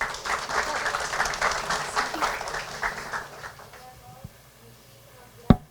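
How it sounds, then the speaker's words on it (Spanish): Audience applause welcomes a speaker at a Spanish-language presentation on processes and innovation; lively clapping fills the first half, then dies away into a quiet room with a couple of sharp knocks near the end. "Así que recibámosla con un fuerte aplauso"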